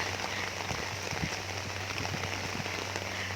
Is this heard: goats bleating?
no